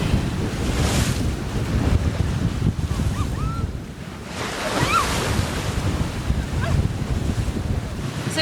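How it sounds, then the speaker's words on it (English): Short-period wind swell waves washing and breaking around a sailboat at sea off Indonesia, a continuous rushing surge with heavy wind buffeting the microphone and a brief lull midway. "So you've got these short period wind swell waves that are absolutely gorgeous"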